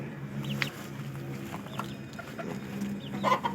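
Soft, intermittent clucks from crossbred gamefowl over a low steady background hum, moderately close, with a few sharper calls near the end.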